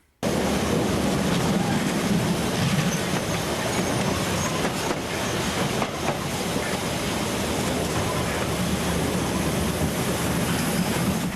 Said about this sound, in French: Le train se faufile dans la vallée étroite en direction de Hesfeder-Talmühle